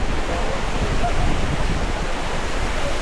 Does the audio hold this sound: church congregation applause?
no